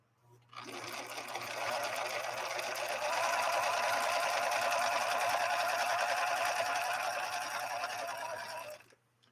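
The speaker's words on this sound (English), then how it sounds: "All right, so 3-point zigzag next. Let's give this a go." A Husqvarna Viking 3230 sewing machine, a rescued unit once reported as smoking, runs a 3-point zigzag stitch in one steady, close whirring burst of about eight seconds with a constant hum underneath, starting and stopping cleanly.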